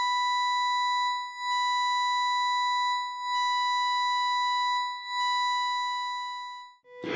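Steady FM synthesizer patch tone with strong harmonics, sounding as four sustained notes separated by brief dips, ending in a short burst of noise.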